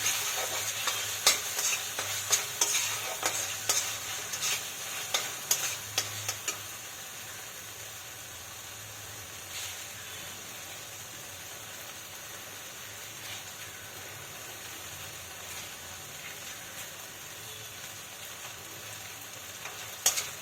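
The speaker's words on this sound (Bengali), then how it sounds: "এবার এর মধ্যে আমি আদা রসুনের পেস্টটা নেব, দিয়ে আবার এটাকে ভালো করে একটু কষিয়ে নেব।" Ginger garlic paste fries in a pan while it is stirred. A steady soft sizzle runs throughout, with sharp scraping taps from the stirring at the start that then give way to quieter frying.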